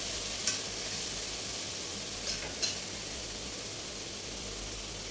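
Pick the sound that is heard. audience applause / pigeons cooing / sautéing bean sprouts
sautéing bean sprouts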